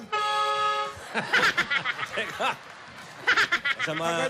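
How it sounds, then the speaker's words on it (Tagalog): A car horn toots in short tonal blasts at the start and end, with people chattering and chuckling in between. "Maaga busina. Napaaga, ha?"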